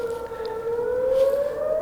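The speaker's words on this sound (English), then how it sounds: "I don't know what's going on with the siren." A fire department siren wails steadily outside, a long sustained tone drifting slowly upward in pitch, moderately loud and alone without talk.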